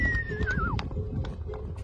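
Horses near San Emiliano in Babia whinny with a sliding, descending neigh over the sound of hooves clopping and shuffling close by, with more faint snorts and movement afterward.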